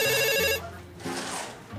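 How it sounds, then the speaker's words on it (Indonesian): A telephone rings loudly and close by, a bright warbling electronic ring with a rapid trill that lasts about half a second before cutting off, leaving low room noise and faint murmuring in a comedy sketch scene. "Telepon."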